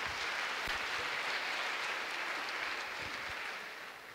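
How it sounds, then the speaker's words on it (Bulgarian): Sustained audience applause fills a speaker's tribute at an event honoring a business leader, a dense steady patter of many hands that fades slightly near the end. "Аплодисменти за това,"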